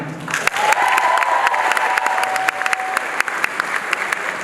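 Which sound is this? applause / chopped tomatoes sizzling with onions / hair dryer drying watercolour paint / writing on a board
applause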